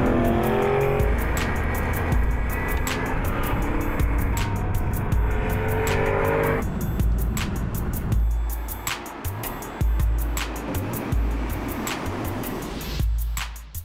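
Aston Martin V8 Vantage S in sport mode, engine loud and close as it drives, with harmonic revving, gear changes, a tire squeal and sharper bursts toward the end.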